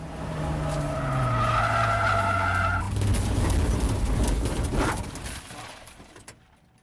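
A race car at Portland International Raceway skids out of the last corner during an endurance race practice session, its tires squealing loudly for a few seconds before a rumbling slide that fades toward the barrier.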